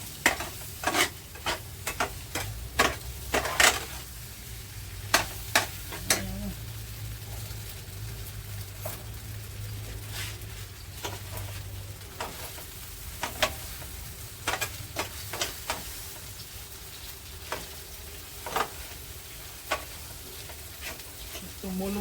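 Chow mein is stirred and tossed in a pan with a fork, giving repeated sharp scraping clinks over a soft background sizzle, with some faint talk.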